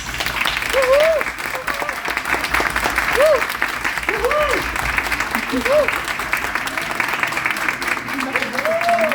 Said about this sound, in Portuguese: Palmas para os nossos expedicionários.